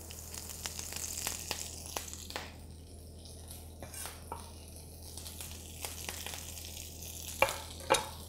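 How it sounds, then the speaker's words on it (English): Kale tossed into a hot pan used for onion and white bean soup gives a soft, low sizzle. Irregular scraping and clicking from stirring runs through it, with two sharper knocks near the end and a faint steady hum underneath. "Okay, so kale's gonna go in, same pan."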